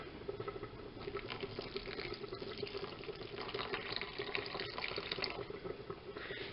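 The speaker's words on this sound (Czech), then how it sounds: "a zalejeme teplou vodou" Steady stream of warm water pouring and splashing onto yeast in a container, a continuous even rushing sound at moderate volume, no talking.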